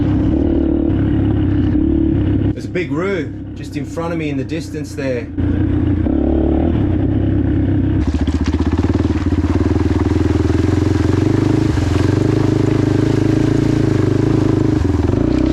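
A motorbike engine drones loudly and steadily up close, rising slightly in pitch partway through, while someone talks over it.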